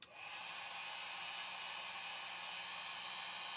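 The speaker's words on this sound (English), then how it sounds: "And turning on the heat gun." A heat gun switches on and runs with a steady, even high-pitched blowing whoosh that holds constant to the end, close and alone.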